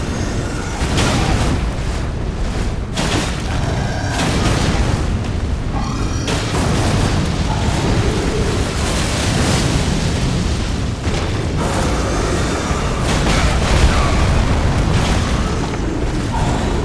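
Sustained, loud game combat from an Elden Ring weapon art attack that leaves a burn effect, with booming, crackling impacts and fiery bursts repeating over dense, continuous noise.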